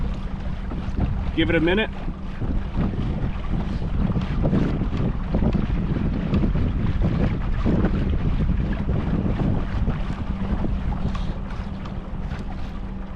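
An electric trolling motor on a boat runs at 80% throttle with a continuous low hum, mixed with wind buffeting and water noise, as someone speaks briefly.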